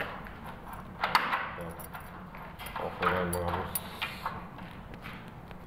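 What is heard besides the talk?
testing door locks and door alignment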